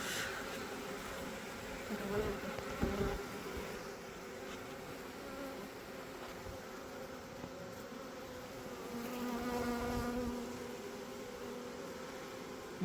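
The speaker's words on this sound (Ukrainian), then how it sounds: "Заходять бджоли до себе додому." A swarm of honey bees entering a hive buzzes in a dense, continuous hum, swelling and fading slightly as it moves nearby, with occasional soft knocks.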